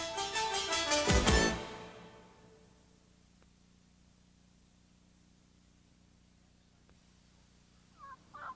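A wild turkey called in during a hunt gobbles loudly up close in a rapid rattling burst that fades out. A long stretch of faint hiss follows, then a brief distant call near the end.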